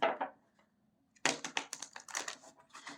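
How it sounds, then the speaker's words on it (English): A deck of tarot cards is shuffled by hand in two bursts, with a short riffle at the start, a pause, and then a longer run of quick crisp flutters and taps, close and fairly quiet. "Spirit told me to shuffle 2 more times, so I'm going to shuffle 2 more times."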